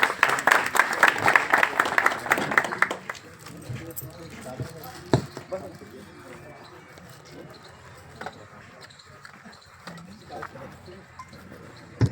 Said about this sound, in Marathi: शेतकरी बांधवांना विनंती की एकदा जोरदार टाळ्या झाल्या पाहिजेत